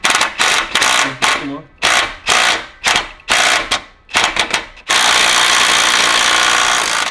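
Power tool driving on a Ferrari 360 transmission mount bolt, loud close bursts of rattling impact in a choppy on-off rhythm, then one long sustained run of grinding noise.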